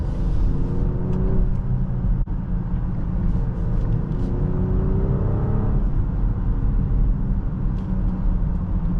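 A 2024 BMW X7 xDrive40i accelerates with a smooth, steady engine hum and rising tone heard from inside the quiet cabin, a continuous even drone for several seconds.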